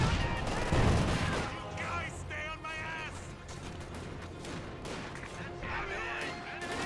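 Battlefield gunfire in the Company of Heroes 2 real-time strategy game, a continuous rattle of rifle and machine-gun fire with distant blasts, running steadily under a commentator's talk.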